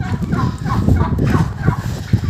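Domestic turkeys gobble in a rural Ukrainian farmyard in winter, loud close warbling calls overlapping in quick succession against a rumbling background.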